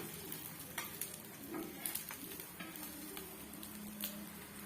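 Rice and egg snack frying in a pan, steady soft sizzle with occasional scraping and flipping clicks from a spatula, moderately quiet throughout with no talk.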